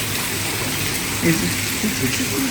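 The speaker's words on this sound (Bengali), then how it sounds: "পুরা ঝুম বৃষ্টি" Heavy night rain in Greece pours down as a loud, dense, steady hiss close by, with a few faint voices underneath.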